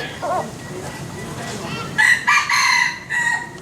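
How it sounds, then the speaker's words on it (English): A rooster crows loudly and close by at a monument complex in Hue, Vietnam, where caged chickens and roosters are kept, one drawn-out crow rising over quieter background clucks and ambient noise. "Appears to be a rookery for caged chickens or roosters"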